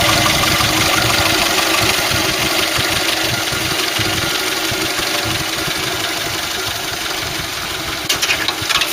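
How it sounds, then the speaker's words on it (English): A Ford Cortina MK3 estate engine runs rough and smoking, giving a close, steady idle with an uneven, lumpy rumble, heard alone apart from a few clanks near the end. "That's like an engine about to die to me."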